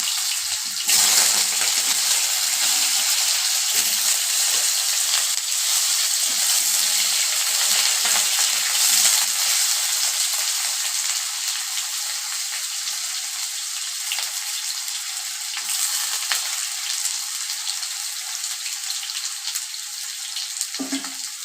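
Washed potatoes frying in a pan with a little turmeric and salt, giving a dense, even hiss of sizzling oil throughout, close and loud, with occasional stirring.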